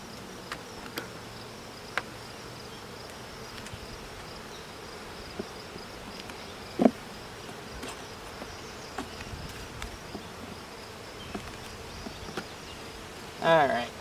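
Many honey bees hum in a soft, continuous buzz during a hive inspection, with a few faint taps and knocks scattered through.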